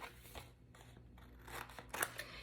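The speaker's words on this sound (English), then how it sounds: "take the scissors. I'm gonna miter the corners, which is simply just cutting it off at an angle." Scissors snip paper corners at an angle for a mini album, a few quiet, crisp cuts close by in a calm room, no talk.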